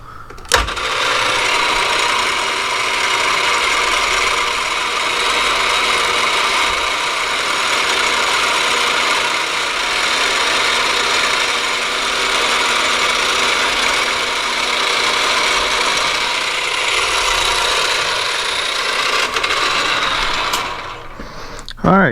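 Machine drilling eight holes in a black anodized aluminum heat sink, producing a continuous loud mechanical whir with a rattling, gear-like texture that runs steadily for about twenty seconds before stopping.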